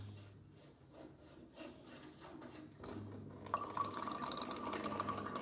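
Dirty water drains from the bottom plug of a heating radiator, a soft trickling and splashing that grows steadier and louder midway, running continuously with faint rubbing handling noises.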